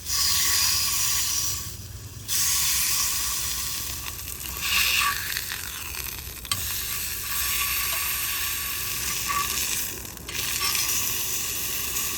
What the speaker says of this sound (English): Now let's cook it and give it a sear.